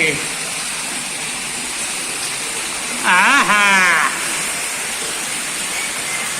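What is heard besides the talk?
water gushing up inside a well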